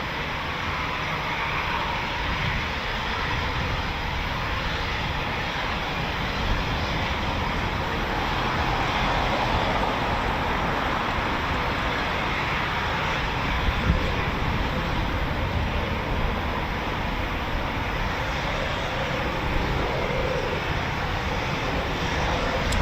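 Eurofighter Typhoon FGR4 jets at RAF Coningsby give off a constant broad roaring engine rumble, steady and fairly loud throughout, like distant jets running and taxiing on the airfield.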